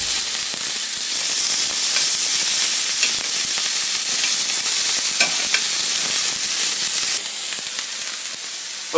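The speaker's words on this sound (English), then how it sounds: "So we're going to be searing this tuna." Tuna sears in a hot pan with a loud, steady sizzle and hiss that runs unbroken throughout, close up, with occasional spatters and crackles and no voices.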